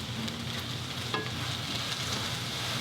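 Bean sprouts, garlic and carrot stir-fried in a hot pan for pad Thai give off a steady close sizzle, with a few scraping stirs coming through the frying noise.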